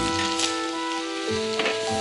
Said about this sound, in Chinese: 热油滋滋作响，这就是柴火灶大锅炒菜的魅力